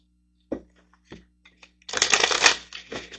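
A deck of manifestation cards is handled: a few soft taps and flicks come first, then a close, crisp riffle-shuffle burst lasting about a second.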